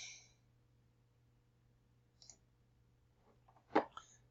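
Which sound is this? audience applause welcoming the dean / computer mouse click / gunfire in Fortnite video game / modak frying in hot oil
computer mouse click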